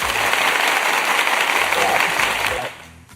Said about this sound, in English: Let me get some applause.